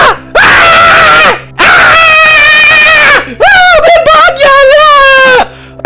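A man imitates screaming, letting out several loud, drawn-out vocal shrieks in a row, with wavering pitch and short gaps between them, close and very loud.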